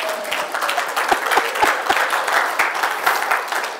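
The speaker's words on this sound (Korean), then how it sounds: "우리 박수 한번 보내겠습니다." A church congregation at a Sunday service gives a round of applause, a steady moderate clapping from a roomful of people with a few distinct sharper claps standing out, lasting several seconds.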